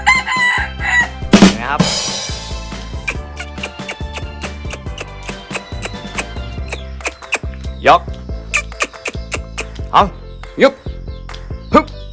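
A trained jungle fowl rooster crows once on a farm in the evening, a loud, close call that rises and trails off, over a busy, steady background with other animal sounds.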